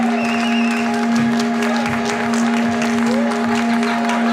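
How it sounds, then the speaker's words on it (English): Wedding guests clap steadily for the bridal party, a dense, continuous round of applause from a crowd indoors, with a loud steady tone running beneath it. "Give them a big round of applause, please, for Tara and Brian"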